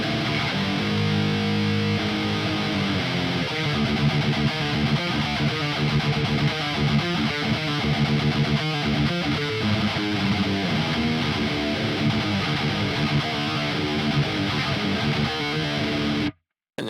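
Distorted electric guitar in drop D tuning, run through an Archetype Gojira amp plugin for djent, plays a dense chugging riff that stays loud and steady for about sixteen seconds, then cuts off abruptly.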